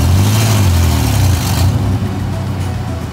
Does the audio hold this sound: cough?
no